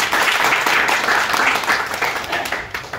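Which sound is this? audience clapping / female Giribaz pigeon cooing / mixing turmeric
audience clapping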